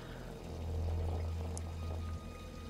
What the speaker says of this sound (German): Das ist das Wasser von den Straßen.